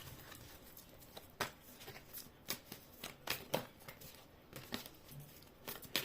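Soft riffling and crisp flicks of tarot cards being shuffled, in short bursts with brief pauses, quiet and close, with no talking.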